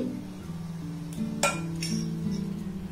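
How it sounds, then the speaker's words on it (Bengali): A spoon stirring thickened milk mixed with condensed milk in a pan, making light metallic clinks and scrapes over a low, steady background hum. "কনডেন্সড মিল্ক দিয়ে দুধটাকে আমি আরেকবার খুব ভালোভাবে এইভাবে নাড়াচাড়া করে নেব।"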